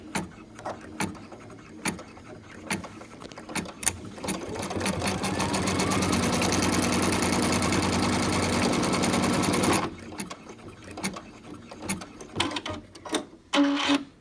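An embroidery machine stitches white thread on an in-the-hoop zipper bag, a fast, steady mechanical chatter lasting several seconds, with scattered clicks and clunks before and after.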